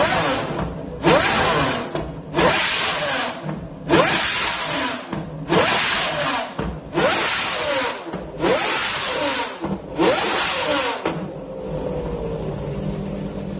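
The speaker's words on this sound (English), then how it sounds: "Pagani's Zonda R sounds evil," A Pagani Zonda R's engine screams through a run of seven or eight sharp, loud revs in quick succession, each a rising howl that cuts off hard, ending on a quieter rumbling idle.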